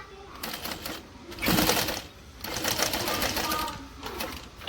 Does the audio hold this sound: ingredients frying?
no